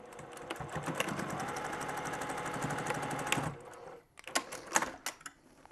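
A sewing machine top-stitches the handle of a fabric grocery bag, running in a continuous close whir, then stopping briefly before a few short bursts of stitching.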